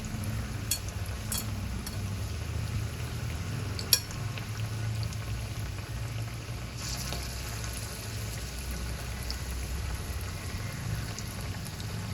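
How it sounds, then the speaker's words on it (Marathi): Ridge gourd bhaji fritters frying in hot oil, a steady close bubbling sizzle that runs throughout with one sharp clink partway through. "तेल तापलंय, आता आपण भजी करायला घेऊया"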